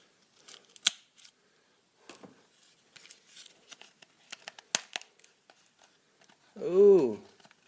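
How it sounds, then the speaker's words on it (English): Scissors snip and crinkle at the plastic of a mailed package containing lock picks, a few sharp scattered cuts and rustles close by, ending in a short louder sweep. "Get the old scissors back out."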